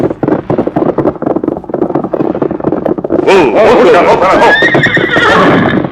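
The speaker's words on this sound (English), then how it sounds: "Look, a horse with an empty saddle breaking through that brush." Rapid galloping hoofbeats give way to a loud, close horse whinny that rises and trails off, with wind rushing throughout, in a Lone Ranger radio show.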